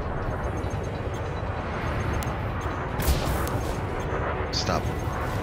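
Weapon fire in a space combat video game, a dense steady roar of game sound with a few sharper bursts near the middle and toward the end.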